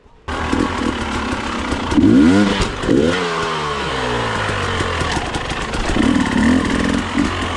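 An enduro motorcycle engine revs hard on the throttle close by, climbing and falling through several loud bursts with a steady rough idle between them, while the bike is ridden on a cross-country trail.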